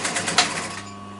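A sewing machine lock-stitches cushion piping in a quick burst of rapid, even stitch clicks up close, then slows and fades in about a second.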